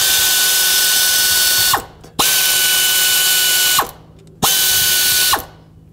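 An air ratchet on the tensioner mounting bolts of a 1999–2003 Toyota Solara timing-belt job buzzes loudly up close in three sustained bursts, each cutting off sharply before the next starts.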